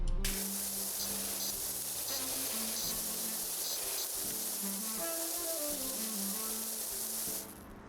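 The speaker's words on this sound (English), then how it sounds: "The ambiance of me spraying your walls with water." Steady, close hiss of a pressure washer spraying water across walls in the video game PowerWash Simulator 2, continuous throughout with faint music tones underneath, then dropping away at the very end.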